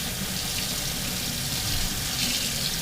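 Hot water gushing from a tap onto a cast iron pan after cooking a burger, a steady close hissing splash that holds constant for the whole stretch without speech.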